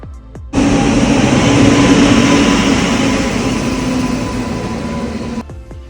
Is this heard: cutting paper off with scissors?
no